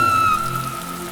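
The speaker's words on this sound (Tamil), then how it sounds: "மழை பெய்யும் அந்த அழகான மாலை." Rain falls in a continuous soft hiss for a children's story scene, layered under a sustained gentle musical tone, steady from start to end with no speech.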